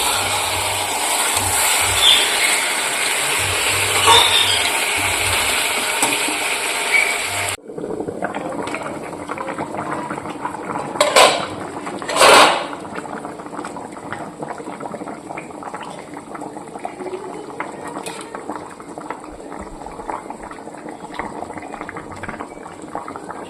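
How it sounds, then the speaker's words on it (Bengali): Chicken curry boils in a pot with a steady, close bubbling and popping, the surface churning continuously, then dropping to a quieter simmer with a few louder bursts partway through. "টকবক করে ফুটছে, একটু ঝোলঝোলই রাখবো।"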